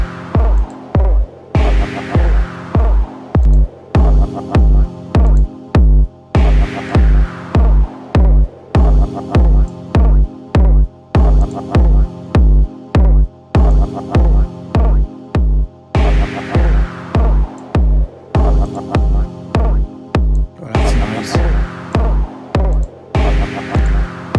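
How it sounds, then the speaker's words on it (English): A heavy, punchy distorted kick drum with a gritty, saturated edge pounds a steady beat inside a dense looping electronic mix from the Hammerhead Rhythm Station iPad app, loud and continuous. "add some distortion. I add some to this kick actually"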